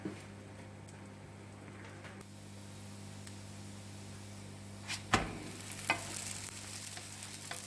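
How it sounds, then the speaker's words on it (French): Msemen, Moroccan flatbread crêpes, frying on a very hot griddle give a steady low sizzle under a constant background hum, with a couple of brief clatters toward the end. "Sur une plaque bien chaude, on va les laisser dorer."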